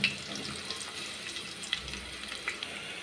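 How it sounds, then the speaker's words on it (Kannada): Cumin, mustard seeds and curry leaves sizzle in hot oil in a pan, a steady soft crackle with a few sharp pops. The frying is for a moong sprout palya. "ಎಣ್ಣೆ ಬಿಸಿ ಆಯಿತು, ಜೀರಿಗೆ ಸಾಸಿವೆ ಹಾಕಿದೆ"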